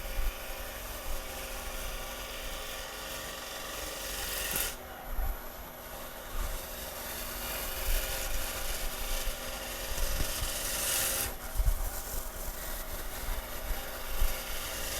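A gouge cuts a wooden bowl spinning on a lathe, with the bevel rubbing as it starts the cut. It makes a continuous close rasping hiss with slight surges, under a steady motor hum, and nobody speaks.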